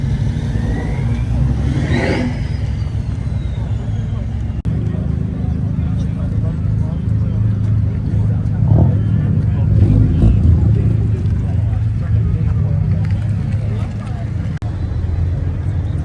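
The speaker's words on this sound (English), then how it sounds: "I hear that turbo?" A turbocharged car accelerates away from a car show, its engine rising in a mid-pitched whir over steady outdoor traffic rumble, with people talking nearby throughout.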